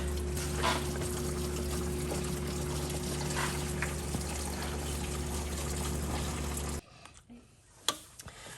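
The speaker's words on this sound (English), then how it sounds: "as you remove the thermostat, coolant's going to come out of the cylinder head mostly" Coolant trickles and dribbles out of the cylinder head of a 2006-2011 Honda Civic during thermostat removal, a steady close liquid stream over faint mechanical hum that stops abruptly, followed by a few small drips and clinks.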